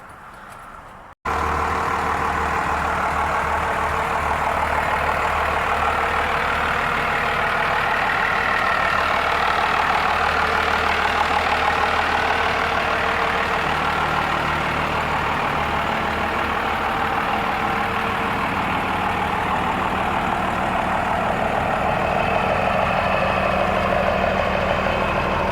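A truck engine starts with a sudden jump in loudness and then idles steadily for over twenty seconds, a constant low rumble nearby with no talking.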